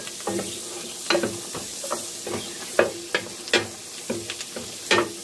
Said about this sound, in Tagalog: kailangan mong i-fry yung bawang at saka sibuyas. I-fry mo siyang maigi.